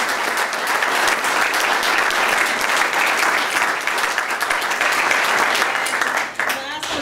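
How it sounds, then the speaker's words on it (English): An audience claps loudly and continuously for several seconds, a dense wash of applause that holds steady before starting to taper at the end. "I would like to give them a round of applause for all of them."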